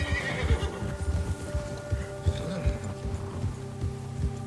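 A horse in Red Dead Redemption 2 whinnies loudly and close, with hoofbeats clopping throughout and a soft rain-like hiss in the background.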